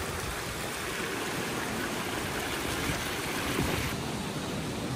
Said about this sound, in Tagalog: Amo sini kakusog ang current sang tubig sa suba, gani ang mga motorista hindi makalabay sa overflow.